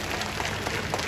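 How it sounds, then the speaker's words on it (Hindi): Steady applause from a crowd at a political rally in Delhi fills the short moment, a dense continuous wash of clapping with no pause. "जोरदार ताली बजाओ।"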